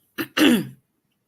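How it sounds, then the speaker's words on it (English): A short throat clearing followed by a longer, rasping cough-like clearing, close up and alone, then silence. "Trying not to have a coughing fit."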